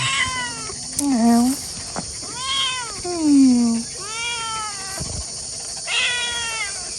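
A cat meows repeatedly in a garden, several loud, close, drawn-out calls separated by short pauses.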